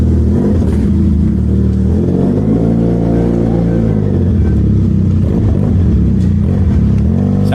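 Benelli 502C motorcycle engine running steadily and revving loudly up close, a continuous throaty drone with rising and falling pitch throughout, no voices.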